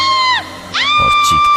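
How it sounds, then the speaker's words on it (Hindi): A woman screams loudly in a horror-story scene, two long piercing shrieks falling then rising in pitch, close and intense, with a short gap between them and a brief murmur of voices at the end. "श्रुति डायलॉग्स की प्रैक्टिस करते करते अचानक बहुत जोर से चीखी"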